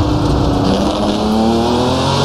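A race car engine screams at high revs as it laps Fuji Speedway in Assetto Corsa, the sim car carrying a 1968 Indy 500 paint livery; the engine note is loud, close and continuous, with no voices.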